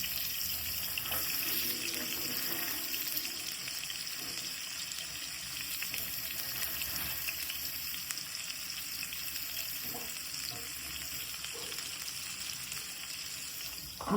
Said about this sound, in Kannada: ವಿದ್ಯೆ ಅವರು ವಾಶ್ ಮಾಡ್ತಾರೆ.